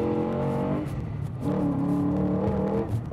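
Naturally aspirated 4.5-litre V8 in a drift car accelerating, a loud, continuous engine note whose pitch climbs, dips briefly, then rises again as the revs build.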